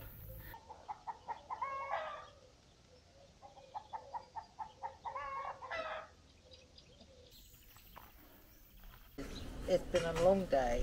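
Chickens cluck in repeated bursts and a rooster crows near a beach campsite in Greece, moderately close and fairly quiet, with a voice talking toward the end.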